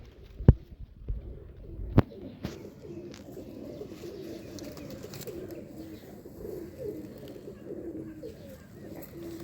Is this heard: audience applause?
no